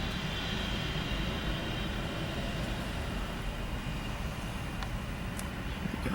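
The GE90-115B engines of an Air India Boeing 777-300ER roar at full takeoff power at Newark, a steady, loud, broadband rumble with a constant high whine, heard from outside without talk.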